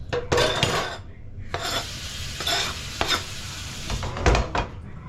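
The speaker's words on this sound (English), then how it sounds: "Okay, so now we're gonna mix it all." Two spoons stir and toss a shrimp, quail egg and potato salad in a bowl, giving repeated scraping, clinking strokes in a quick irregular rhythm, close and fairly loud with no talk.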